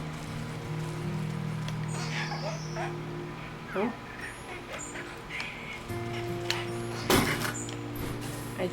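A dog on a farm in a video game whimpers and yips in short bursts over steady in-game ambience, with a sliding-door sound near the end.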